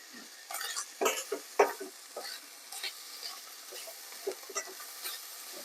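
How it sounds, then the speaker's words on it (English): Eggs are whisked for a quiche Lorraine, a steady, close scraping and clatter of the whisk against the bowl, with bacon sizzling softly beneath it. "so we're going to whisk it."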